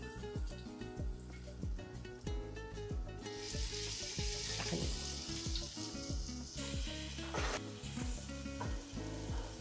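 Garlic sautéing in a hot pan for Kapampangan tamales, a steady sizzle with stirring, heard under background music with rhythmic tonal notes throughout.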